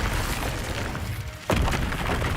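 Incendio fire spell cast in Hogwarts Legacy wand-duel PvP, a rumbling rush that drops briefly then bursts into a sudden loud whooshing blast, continuing as a dense roar.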